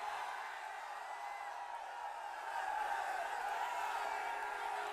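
Crowd noise at an outdoor election rally in the Poompuhar assembly constituency, a steady, dense wash of cheering and voices from a large gathering, moderately distant, swelling slightly louder partway through.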